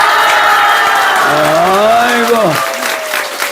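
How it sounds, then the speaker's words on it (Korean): Audience applause and cheering at a Korean Haneulgung singing contest, a steady wash of clapping with a voice calling out over it and a sung or shouted tone gliding across the middle. "오늘 나온 사람들 박수 한번 쳐요."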